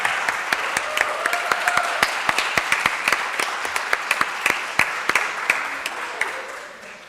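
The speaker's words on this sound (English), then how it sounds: "a clap to her." Scattered, fairly close claps from a modest audience at a tourism master's graduation and opening ceremony, separate distinct hand claps carrying on steadily for several seconds before tailing off.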